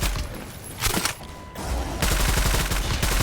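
Rapid bursts of video game gunfire crackle in quick clusters, loud and close, with brief pauses between volleys.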